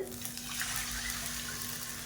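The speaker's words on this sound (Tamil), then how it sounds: "இப்போ இந்த ஸ்டேஜில் நம்ம தண்ணி சேர்த்துக்கலாம்" Water runs steadily into a pan for rice-flour kozhukattai, a continuous close hiss and splash that lasts about two seconds without a break.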